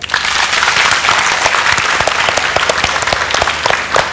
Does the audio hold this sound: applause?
yes